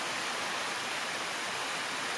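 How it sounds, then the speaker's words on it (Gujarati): Heavy rain pours outdoors near Poicha village by Rajpipla as a dense, steady, unbroken hiss filling the whole short stretch, with no voices. "આ વરસાદ પડી રહ્યો છે"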